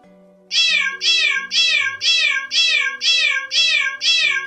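A cat meows eight times in a steady, even rhythm, each cry loud, close and drawn out, with faint background tones beneath.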